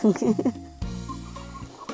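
Laying hens cluck in a backyard coop, a quick run of close, loud clucks, then a steady drawn-out call with rural background ambience.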